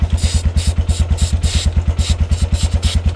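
Suzuki Huracán motorcycle engine running on a stand with its rear wheel spinning, a close, steady, rapid thumping beat with a rhythmic mechanical chatter riding over it.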